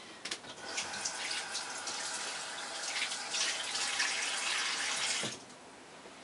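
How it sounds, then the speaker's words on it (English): Water runs steadily from a sink faucet onto hair for about five seconds, a continuous splashing hiss that stops near the end, with no talking. "So I just wet it at the sink."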